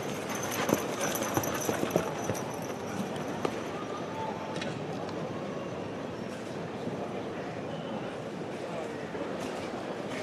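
Harness horses at a Pennsylvania sale clip-clop into the sale ring, a few sharp hoof strikes early on within a busy, steady crowd and arena rumble.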